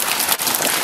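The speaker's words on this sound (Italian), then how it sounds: "guardate qua la pioggia che cade," Rain falling over an old scrapyard in Chivasso: dense, steady hiss of downpour, close and continuous for under a second, with no voices.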